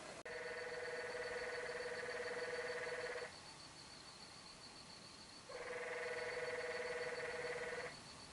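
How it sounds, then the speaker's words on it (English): Toads trill outdoors at night in long, steady buzzing pulses, one trill lasting about three seconds, a pause of low background noise, then a second trill of similar length, fairly loud against the quiet. "That's the sound of toads."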